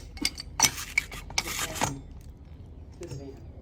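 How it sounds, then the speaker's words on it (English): Parts of a pool water valve are unscrewed by hand, giving a few close scraping, rubbing and clicking bursts of plastic turning, followed by quieter handling noise. "See if we can unscrew this guy."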